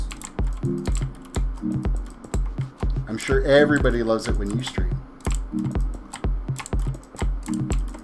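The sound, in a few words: mechanical keyboard clicking while typing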